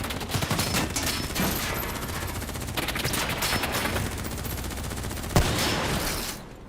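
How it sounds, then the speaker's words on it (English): Rapid gunfire from the Call of Duty Black Ops 3 video game, dense and continuous with overlapping bursts and one sharp louder shot near the end, with no voices. "What the hell? Who's shooting?"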